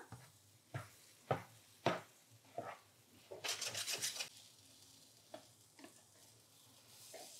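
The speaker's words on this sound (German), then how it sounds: "einfach jetzt die einzelnen Stücke rundherum noch mal ein bisschen anbraten" Pieces of keto Kaiserschmarrn fry in a pan, with a low sizzle broken by repeated scraping and stirring strokes as the pieces are turned, heard up close with no talking.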